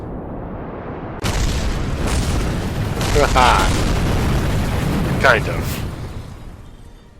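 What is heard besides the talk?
explosions in a video game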